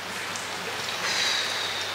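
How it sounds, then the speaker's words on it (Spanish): Steady rain falls in a broad, even hiss, loud and close throughout, with no voices. "la verdad que tenía un montón de ganas de que lloviera"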